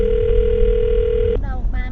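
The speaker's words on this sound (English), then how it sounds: "I'm gonna dial her phone number right now" A steady telephone dial tone hums for over a second, then cuts off as a voice begins speaking over a low background.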